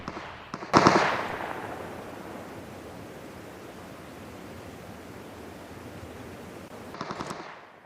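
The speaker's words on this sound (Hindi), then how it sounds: "उसे मैं लगवा देता हूँ और फिर स्कोप से फायरिंग करता हूँ" Scoped gunfire in the mobile battle-royale game PUBG Mobile, with the weapon set to single shots: a loud burst of shots near the start and another near the end, separated by a steady, noisy background hiss.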